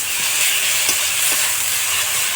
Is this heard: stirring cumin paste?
yes